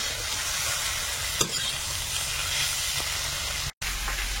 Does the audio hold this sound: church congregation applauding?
no